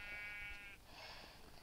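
A single clear sheep bleat from the video game Minecraft, close and loud, fading into a softer breathy tail.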